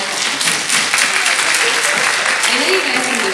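An audience at a Taste of Asia cultural show claps loudly and steadily, with some cheering and crowd voices mixed into the continuous applause.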